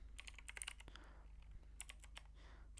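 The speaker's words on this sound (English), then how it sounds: "then type a password" Fingers tap out a password on a computer keyboard, a quick run of sharp, close keystrokes in uneven bursts with short pauses between, alone over a faint low hum.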